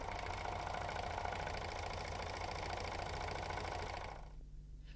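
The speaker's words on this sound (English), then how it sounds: "Holding all the threads, start to sew slowly, allowing the threads to form a chain." A Janome 6234XL overlocker runs slowly with no fabric under the foot, chaining its threads in a steady whirring mechanical hum with a rapid stitching rhythm that stops abruptly near the end.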